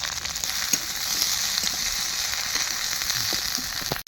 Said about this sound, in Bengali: ভেন্ডিগুলোকে ভালো করে এখন ভাজা হবে।